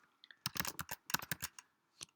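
Quick bursts of keypresses on a computer keyboard as a numeric login code is entered, a few light taps, then a dense run of clicks, a pause and one last tap, close and fairly quiet.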